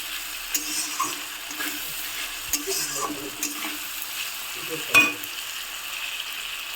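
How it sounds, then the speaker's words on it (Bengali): Onions frying in a pan with a pinch of salt while a spoon stirs them, a steady close sizzle under irregular scraping strokes and one sharper clink near the end. "এখন পেঁয়াজগুলো ভাজা করছি।"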